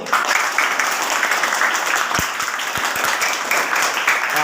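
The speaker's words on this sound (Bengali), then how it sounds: "ওর জন্য সবাই একটা করতালি দাও" Classroom of primary-school children clapping together for a classmate, a steady crackling round of applause with a few sharper, louder claps near the middle.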